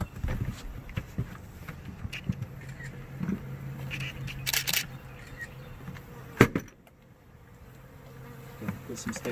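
Honey bees buzzing during the removal of a large beehive, a faint steady drone with scattered knocks and a sharp clunk partway through, close up and without talk.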